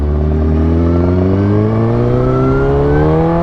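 A 2008 Suzuki GSX-R 1000 sport bike with velocity stacks fitted and a suspected bad clutch revs loudly and close, its engine note climbing steadily in pitch without a break.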